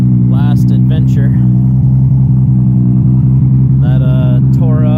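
Loud, steady engine drone from a Supra race car with a torn-up Veilside exhaust, a low rumble with a regular pulsing beat throughout, while voices talk over it.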